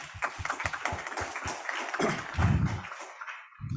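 Conference audience applauding, a burst of clapping from the room that builds and then thins out over a few seconds, with some low thumps near the end.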